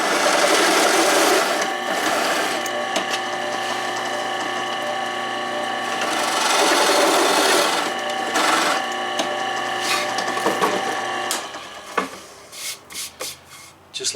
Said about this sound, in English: we're going to use a Forstner bit, and we are going to countersink some holes down about 1/4 of an inch